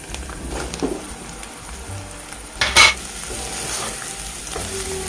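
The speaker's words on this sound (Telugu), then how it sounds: "ఈ ఆనియన్స్లో ఈ మష్రూమ్స్ వేసుకొని కలుపుకోవడం" Mushrooms being stirred into onions in a cooking pan, a steady soft sizzle with scraping spoon-on-pan stirs and one louder clatter near the middle.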